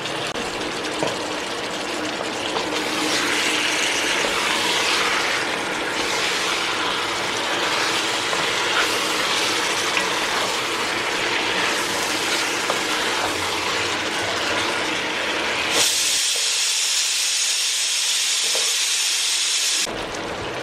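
Chicken pieces tossed and frying in a pan for roasted chicken curry, a loud dense roar of sizzling oil that holds steady throughout and grows brighter and hissier near the end, with no voices.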